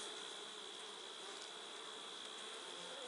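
Honeybees buzz in a dense, continuous drone from an open hive, close and steady throughout with no voices.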